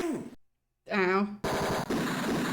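Gunfire in the 1989 video game Tex Murphy: Mean Streets comes as bursts of loud, rapid shots, broken by a brief silence, with a voice heard near the start.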